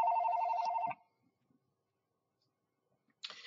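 Mobile phone ringing close by, a short bright warbling electronic ring lasting about a second, then silence before another brief burst starts.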